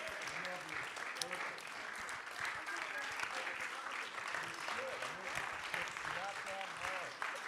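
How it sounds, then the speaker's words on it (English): Faint, steady audience applause at the close of a live stage program on music and memory, with a voice talking over the clapping. "please give them a round of applause"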